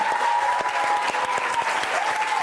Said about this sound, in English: Give a round of applause for Gary, please.